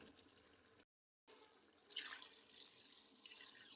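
Water splashes and streams into a pot of beef trotters after a brief silence, a steady pour close by with a faint hiss and no voices.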